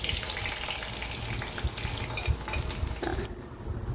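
Onions go into hot oil with spluttering mustard seeds and curry leaves, a loud, close sizzle with stirring and scraping in the pan, then a sudden drop in the hiss near the end.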